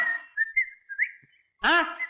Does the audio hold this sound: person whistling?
yes